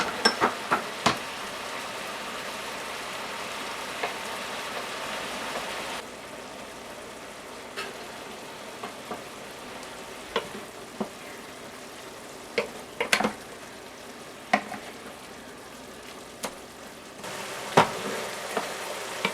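Meat browns in a pan for a tamale pie, giving a steady close sizzle and fry hiss throughout, with occasional sharp clicks and taps of stirring utensils and no talking.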